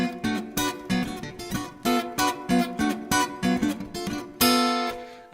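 A thumb-picked guitar plays a bouncy run of chords in a syncopated rhythm, close and clear, ending on a ringing chord.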